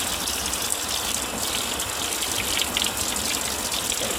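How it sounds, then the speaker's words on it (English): Tap water gushes steadily while rinsing out a K&N engine air filter, a close, continuous hissing splash with no talking. "So turn the water on. And just washing it out."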